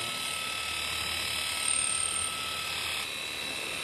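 Electric horse clippers run with a steady, continuous buzz while working around a horse's eye on its head, close and even in level throughout with no talking.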